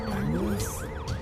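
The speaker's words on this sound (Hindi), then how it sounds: "यहाँ पर एम्बुलेंस आ गई है।" An ambulance siren in a film sounds a loud, repeating wail-yelp sweep over background music and low rumble, without speech.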